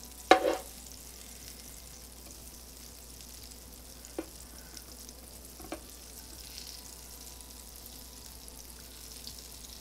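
Butter melts in a pan on low heat with a faint, soft sizzle, opened by a sharp clatter and followed by a couple of light knocks against the pan, otherwise quiet and even.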